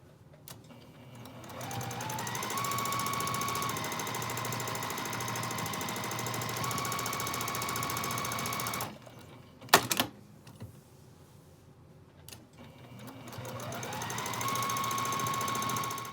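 Sewing machine stitching a quilted Christmas stocking, a loud steady run of rapid needle chatter that stops midway, followed by a few sharp clicks and a pause before the machine starts up again.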